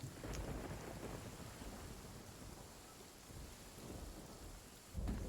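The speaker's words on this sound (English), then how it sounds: "I just said that I wanted to go around and it started raining" Steady rain falls in the video game Genshin Impact, a dense continuous hiss of drops with low rumbling underneath and a soft thump near the end, with no talking.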